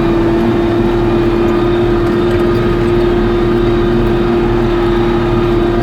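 A big tractor pulling a chisel plow uphill gives a steady, loud engine drone with a strong constant hum, working hard and unbroken the whole time, with no voices over it.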